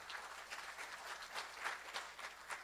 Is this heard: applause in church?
yes